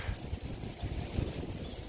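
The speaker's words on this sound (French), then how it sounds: "Donc toujours autant de vent." Steady wind blows across a carp fishing spot by the water, a continuous loud rumbling buffet of gusts on the microphone with no voices.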